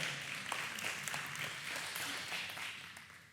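A crowd applauds, a dense, steady patter of many hands clapping that fades slightly toward the end.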